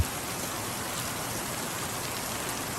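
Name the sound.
rain falling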